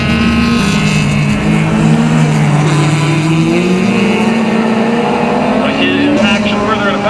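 Closed-wheel race cars, including a Honda 2000, lap the track at Mission Raceway, loud engines droning and shifting pitch as they come through turn 2, with a commentator talking over them.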